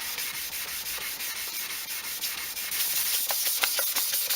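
Wet flatting of a red candy finish on a Les Paul guitar body with abrasive paper, a steady close rasping rub in quick repeated strokes, getting slightly louder and more distinct toward the end, with no voices.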